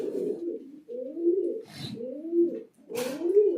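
King pigeons cooing inside a loft, a few deep rolling coos repeating in a steady rhythm, close and clear with no talk.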